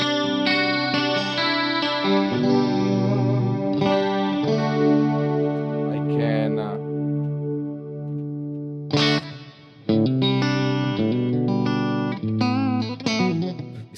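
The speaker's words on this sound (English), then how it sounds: "This is dry clean, only a reverb." Electric guitar through a Fractal modelled Mesa Mark IIc+ clean channel, dry except for studio reverb, plays sustained chords and notes with a reverb tail, pausing briefly before strumming resumes.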